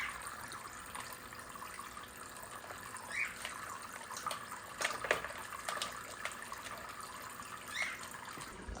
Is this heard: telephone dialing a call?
no